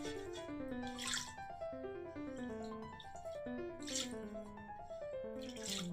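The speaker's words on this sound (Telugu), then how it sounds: "చూడండి, గ్లాస్తో ఒక 2 గ్లాసులు వాటర్ యాడ్ చేసుకున్నాం." Water poured from a glass into a pot of kacchi chicken biryani makes a soft, burbling pour with rising gurgling pitch, heard in repeated splashy bursts, quiet and close with no talking.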